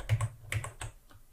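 A few quick computer keyboard key presses, a Shift-Q shortcut typed while working in 3D-Coat 3D modelling software, sounding as close, crisp clicks in a short burst with no talk.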